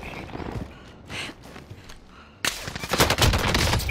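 Gunfire in Call of Duty: Modern Warfare, scattered distant shots and movement at first, then a sudden loud burst of rapid automatic fire filling the last second and a half.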